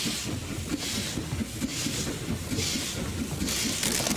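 A cartoon steam train chugs along in the children's game Dinosaur Park Train Race, a steady, rhythmic chuffing with a hissy, windy wash on top and no talking.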